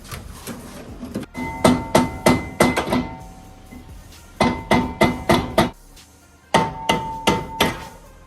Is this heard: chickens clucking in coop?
no